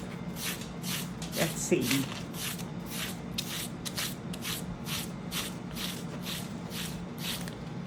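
Repeated short snuffling bursts from a dog's nose, rhythmic sniffs and snorts close to the microphone, with a brief spoken remark over them.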